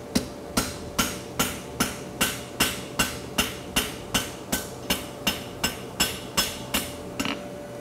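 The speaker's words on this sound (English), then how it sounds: "Now I'll start pulling out my frog support with the round of my hammer" A blacksmith's hammer pulls out the frog support of a lateral bar horseshoe, striking hot steel in a steady, even rhythm of about fifteen loud, ringing blows, each with a short metallic decay over a faint constant hum.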